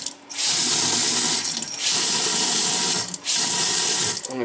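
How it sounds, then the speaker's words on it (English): Water runs hard from a Delta kitchen faucet under high pressure, a loud close rushing hiss that cuts out in short sputtering breaks several times before resuming. "you're putting a lot of water pressure through the faucet, you know, they tend to want to spit and sputter."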